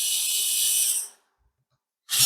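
A screwdriver on the Phillips screws of a Dyson V8 cordless vacuum gives a close, high whirring buzz for about a second. It stops into silence, then starts again briefly.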